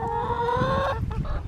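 A little brown hen on a homestead gives a short burst of close clucking, drawn-out tonal notes breaking into a few choppy calls, with no voice over it.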